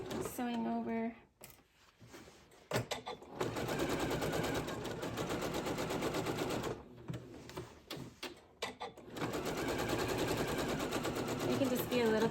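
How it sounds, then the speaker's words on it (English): Sewing machine stitching over the bulky bottom seam of a large Ikea-style bag, a rapid mechanical rattle in bursts with brief pauses, close and fairly loud, with a voice talking at moments. "So I'm sewing over"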